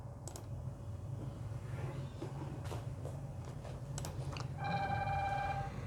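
A mobile phone ringtone plays near the end, a clear bright electronic melody of stacked tones rising over a steady background hum, preceded by scattered clicks and light footsteps in an indoor class setting.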